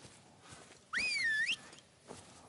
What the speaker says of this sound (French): On va siffler un peu, histoire de voir s'il y a de la vie dans la forêt